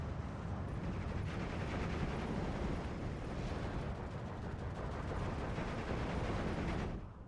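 Continuous rumbling barrage of artillery and explosions in the WWII strategy game Steel Division, a dense, loud roar of overlapping blasts holding steady for about seven seconds before cutting off.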